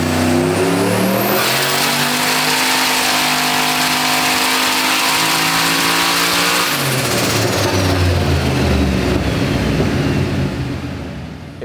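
A car engine revs hard and loud right up close, climbing through the revs, easing back, then sweeping up again in one continuous aggressive roar with no talking.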